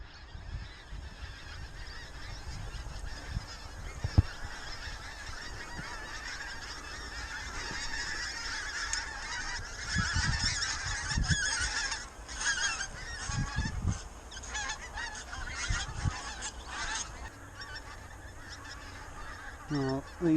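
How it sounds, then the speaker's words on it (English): A flock of pink-footed geese honks steadily as they fly in on a frosty morning, with overlapping calls near and far rising in bursts and no talking. "you just got to sit back and enjoy when you get that many geese come working into you"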